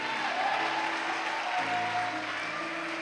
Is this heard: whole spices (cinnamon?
no